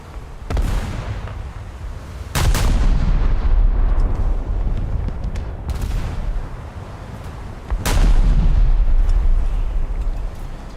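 A warship's rear turrets fire broadside in a naval video game, sending heavy booming cannon blasts in a few widely spaced volleys, each loud and close with a long rumbling tail, and no voices over them.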